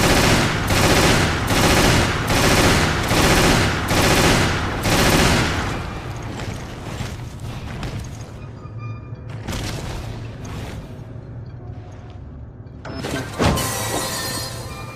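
Explosive weapon fire from a grenade launcher in a Resident Evil video game: a rapid run of loud, regular blasts, then scattered bursts and crashing impacts with breaking debris.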